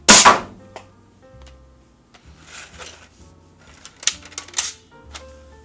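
A Captain Slug's Inline Rivalburn foam-ball blaster is chambered and fired, giving a sharp loud snap followed by scattered clicks, rattles and mechanical clacks, close and intermittent.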